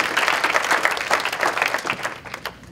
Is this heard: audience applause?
yes